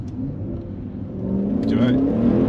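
A Maserati Levante Trofeo SUV engine blips and climbs in revs on a downshift, heard from inside the cabin. It is close and loud, swelling toward the end.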